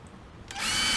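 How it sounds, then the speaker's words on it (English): A power drill bores holes into a plastic apartment composter bin, starting abruptly halfway through with a loud, steady high-pitched whine that continues to the end after a quiet start. "so we got our holes drilled"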